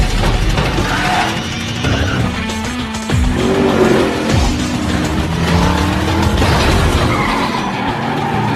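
Race cars roar off the line at the start of a film's death race. Loud engines rev, tires squeal and skid, and mechanical clatter crowds a dense, chaotic mix.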